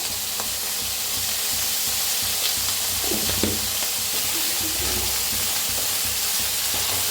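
Soaked basmati rice with masala and salt roasting in a pan, giving a steady close sizzle with a few scraping stirs around the middle and no talk.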